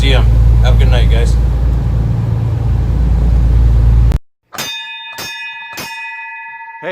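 A ship's-style bell rung during a live Nordic-themed charity auction, several bright, ringing strikes with long sustained tones that follow a stretch of loud talk and low hum, close and clear.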